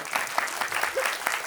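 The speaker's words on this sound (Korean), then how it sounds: "박수 한번." An audience at a Korean film screening and talk at a CGV cinema claps in a brief burst of applause, fairly faint and steady.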